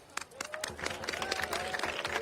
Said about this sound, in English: I invite you to raise or clap your hands